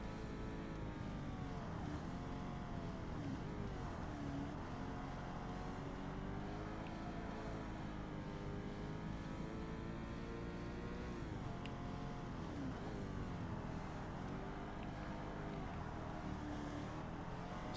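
A Corvette's engine drones steadily in a Forza Motorsport race, its pitch rising and falling smoothly through shifts and corners, with no talking over it.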